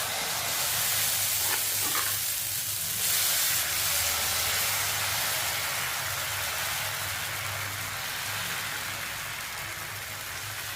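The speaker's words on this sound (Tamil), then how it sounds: "இப்போ நம்ம பிரண்டை பொடி தோசையை ஊற்றிடுவோம்." Dosa batter made with pirandai powder sizzles steadily on a hot, lightly oiled pan, a dense continuous frying hiss that stays loud and even throughout with no talking.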